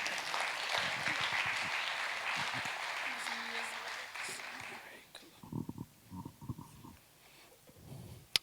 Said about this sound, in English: How about a round of applause for our vocalist and one of my prized pupils